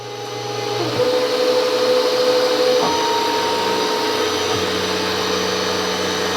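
A milling machine spins a 3/4-inch cutter at 2,000 RPM, machining a radial engine cylinder head, with a loud steady motor whine and tonal cutting hum that shifts pitch as the cut progresses.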